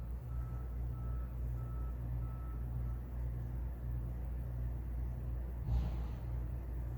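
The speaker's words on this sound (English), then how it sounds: "I think it's our trash man. Our trash truck is in." Garbage truck outside, heard from indoors as a steady low engine rumble with faint repeating reversing beeps, and a brief louder burst near the end.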